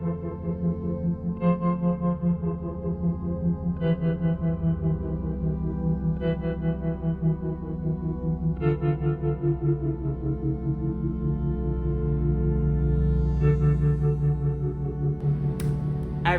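A low, sustained synth pad from the Native Instruments Fables instrument plays on its own, its steady tone swelling with fresh chord changes every couple of seconds under a wide, effect-washed sheen.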